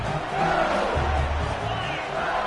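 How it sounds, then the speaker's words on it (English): Stadium crowd in a college football video game, a steady roaring wall of yelling and screaming fans, dense and continuous throughout with no pauses. "they are on their feet, yelling, screaming"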